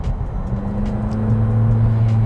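A 2018 McLaren 570GT's turbocharged V8 engine drones with a low, steady hum that swells slightly, heard close up with no talking.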